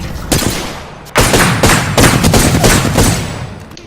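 Loud, close gunfire in the video game Apex Legends, a few sharp shots followed by a dense rapid burst lasting a couple of seconds, then tapering off.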